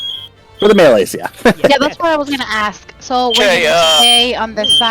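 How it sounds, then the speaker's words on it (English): A fire alarm sounds a brief high beep at the start, then people talk over it during an online game session. "That's the fire alarm."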